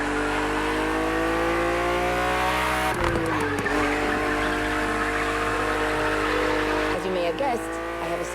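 A BMW race car engine on a racetrack in The Crew Motorfest video game drones loud and steady at high revs, with pitch shifts near three and seven seconds. A voice talks over the engine.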